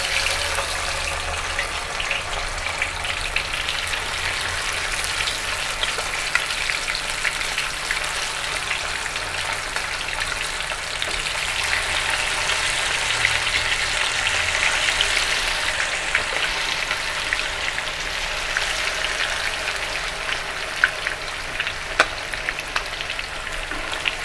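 Tuna pieces fry in hot oil with a steady, dense sizzle that holds at an even level throughout, close and loud, with no voices.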